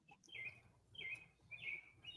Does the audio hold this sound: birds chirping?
yes